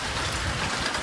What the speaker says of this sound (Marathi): पाऊस काय सुट्टी द्याय नाही आपल्याला